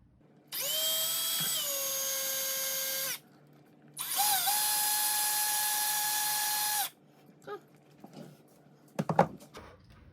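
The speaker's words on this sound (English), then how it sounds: "So I'm gonna put this into my drill real quick." A power drill bores a hole through an ESD mat in two sustained high whining bursts of a few seconds each, followed by faint clicks and handling knocks.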